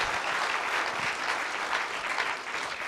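Audience at a forum closing ceremony clapping for the organising team, dense sustained applause filling the room evenly from start to end.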